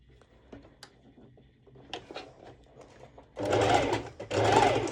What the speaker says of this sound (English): So like I said, it's a basting stitch.